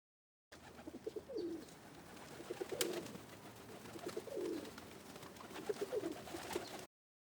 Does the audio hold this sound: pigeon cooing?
yes